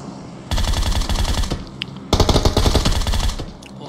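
Gunfire in a battle royale video game, including a suppressed Groza rifle, comes as two loud bursts of rapid automatic shots separated by a short pause.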